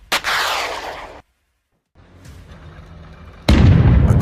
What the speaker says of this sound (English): and Bradley opens fire.